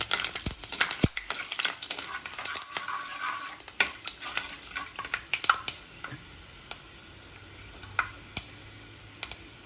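Spices fry in two tablespoons of coconut oil in a clay pot for a Nadan chicken curry, crisp popping and spluttering crackles in quick bursts at first, then thinning out to scattered pops over a soft sizzle.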